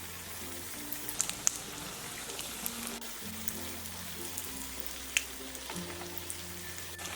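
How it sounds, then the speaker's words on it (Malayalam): Mutton-filled samosas deep-fry in hot oil, giving a soft, steady bubbling hiss in the background with a few faint clinks, while a low hum runs underneath. "ഇനി ഇതിലേക്ക് നമുക്ക് ഈ ഫില്ല് ചെയ്ത് വെച്ച മട്ടൻ്റെ പീസുള്ള സമോസ ഷീറ്റിട്ട് ഫ്രൈ"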